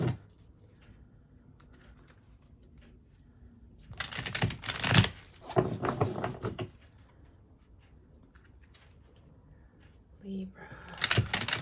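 A few quick riffles of cards being shuffled, close and crisp, separated by quiet stretches with faint voices in the background.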